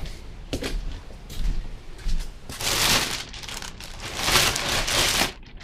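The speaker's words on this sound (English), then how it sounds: "I've got it in a plastic bag" Plastic bag crinkling and rustling in bursts as an MSA gas mask with a filter is pulled out, close and fairly loud, with several louder crackling stretches near the end.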